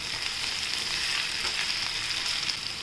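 Salt is stirred into green masala poha in a hot pan, giving a steady, moderately loud sizzle with soft stirring texture throughout and no voices.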